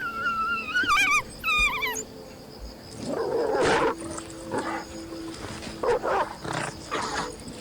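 African wild dogs in the wild: high chirping twitters at the start, then a series of harsher yelps and calls at moderate distance over steady outdoor background noise.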